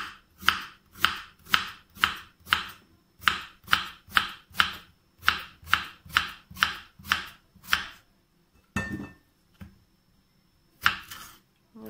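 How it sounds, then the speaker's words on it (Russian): A knife finely chops fresh zucchini on a board in a home kitchen, a run of crisp, evenly spaced cuts close up, then a pause, a clatter and one more cut near the end. "Мелко нарежу свежий кабачок."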